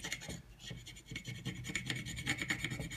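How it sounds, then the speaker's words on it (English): A vinyl stencil is rubbed down onto glass before etching, giving a close, quiet, rhythmic scraping and rasping of repeated strokes with no talking. "then you're going to want to rub it down."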